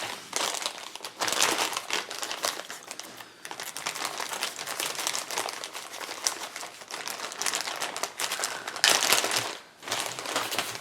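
A plastic bag holding a pistol brace kit crinkles and rustles up close, in irregular bursts of crackly handling that continue throughout.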